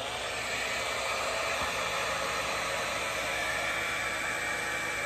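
A hair dryer runs on its lowest cool setting, powered through an inverter from a LiFePO4 battery, giving a steady, even whooshing hum that stays constant and close throughout with no voices.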